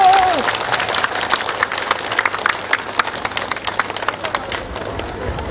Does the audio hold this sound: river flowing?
no